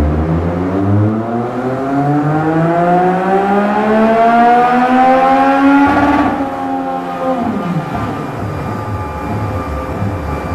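A Yamaha MT-09 motorcycle with its stock exhaust revs steadily upward in pitch on a dynamometer, holding high, then drops back down as the throttle eases, with continuous exhaust roar throughout.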